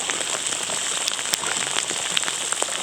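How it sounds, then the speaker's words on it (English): Heavy rain pours steadily on a wilderness route, a dense, loud, continuous patter with scattered sharper drops striking nearby surfaces, with no voices. "Yeah, it's raining pretty hard."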